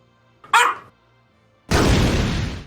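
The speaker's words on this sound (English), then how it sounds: "my doggos bark" Dogs bark in a blocky Minecraft-style game: one short sharp bark stands alone, followed after a pause by a longer loud burst of broadband noise, with no talking.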